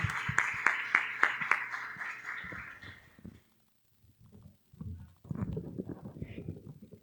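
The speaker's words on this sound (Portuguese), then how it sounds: "Você pode aplaudir o Senhor?" A church congregation at a teaching service claps in a steady, rhythmic beat for about three seconds. The clapping then stops, leaving a short quiet before voices and room noise return.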